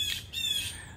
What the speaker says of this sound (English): you hear the beautiful birds chirping